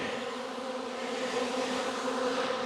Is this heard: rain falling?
no